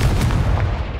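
A Confringo fire spell detonates in Hogwarts Legacy as a loud, close blast with a deep booming low end that rumbles on for about a second, with no talking.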